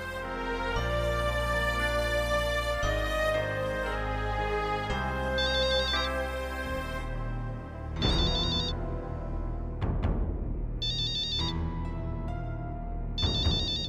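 A musical phone ringtone chimes in repeating phrases, fairly loud and close, with no voices present.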